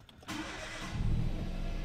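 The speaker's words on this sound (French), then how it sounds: "ça fait le bruit d'un 3 cylindres" A Peugeot 107 three-cylinder engine cranks and catches, then settles into a low, slightly uneven rumble that grows louder as it idles up, close by.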